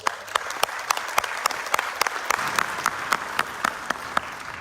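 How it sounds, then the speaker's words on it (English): Applause from the audience at a Texas Senate District 30 candidate forum in Parker County, a steady crowd clapping with sharper individual claps standing out throughout, no talk over it. "please give them all a round of applause."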